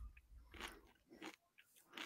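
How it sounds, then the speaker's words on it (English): Pretzels being bitten and chewed close to a microphone, several short crisp crunches spaced about half a second apart, quiet, with no talking. "You hear me crunching?"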